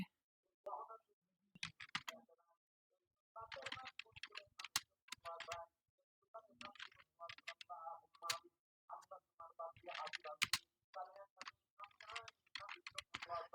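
Someone types a search on a computer keyboard in short bursts of quick, close, crisp key taps, with brief pauses between words in a quiet room.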